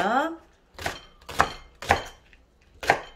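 Green onion is being finely chopped with a knife on a cutting board, several sharp, evenly spaced knife strikes close up, with a brief scraping sound at the very start.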